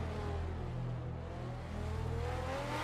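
Car engine in the racing video game Night Runners, a steady loud drone with rising revving whine building toward the end, no talk over it.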